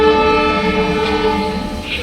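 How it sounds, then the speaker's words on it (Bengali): A train pulling into Jaipur railway station sounds a loud, sustained horn close by, with a rumbling undertone throughout. "এই যে আমাদের ট্রেন অ্যারাইভাল টাইমের মোটামুটি আধা ঘন্টা আগে পৌঁছে দিয়েছে জয়পুর স্টেশনে"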